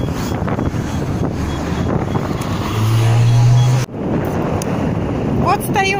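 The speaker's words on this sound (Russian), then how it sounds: "Смотрите, катер. Как это называется? Ракета?" A Raketa hydrofoil passes on the river in Saint Petersburg, heard from the Trinity Bridge as a loud, wind-buffeted roar of engine and water that swells with a low drone before cutting off, then wind noise resumes.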